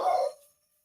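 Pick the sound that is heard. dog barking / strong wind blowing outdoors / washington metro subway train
dog barking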